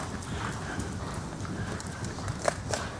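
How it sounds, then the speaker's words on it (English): Horse hooves clip-clop at a steady walk in an arena riding lesson, moderately close and continuous with a few sharper knocks. "If the horse shakes that head, Jessica, don't drop your hands."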